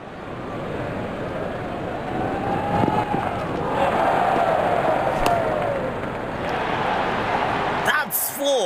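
A broad roar of video game crowd cheering in Real Cricket 22 swells and sustains in the background, steady and loud, ending with a sharp click near the end.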